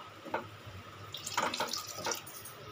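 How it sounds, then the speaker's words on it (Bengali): Water is poured into a pan of egg curry, giving a few short splashing gushes close by against a quiet kitchen background. "এখানে আমি অল্প পরিমাণে জল ব্যবহার করব, যেহেতু আমি কালিয়া বানাবো তার জন্য অল্প পরিমাণে জল দেব"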